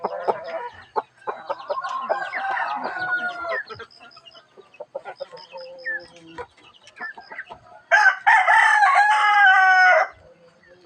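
Chickens cluck and chatter close by in a yard, with a loud rooster crow near the end and a voice speaking briefly in the background.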